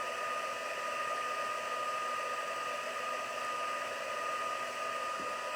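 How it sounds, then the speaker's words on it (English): A craft heat tool blows hot air to melt embossing powder. It produces a steady, even whoosh and hum like a hair dryer, continuous and unchanging from start to finish. "so we'll warm up my heat tool"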